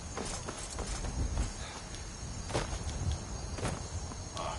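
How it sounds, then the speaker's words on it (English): Horse hooves clip-clop at a walking pace in the fantasy video game Skyrim, irregular thuds over a steady background hum with crickets chirping, and no talk. "A horse."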